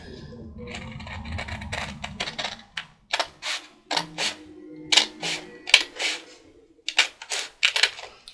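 Scissors cut through only the front layer of a paper security envelope, making a series of crisp, close paper snips in an uneven rhythm that quickens toward the end, with a brief low rustle at the start.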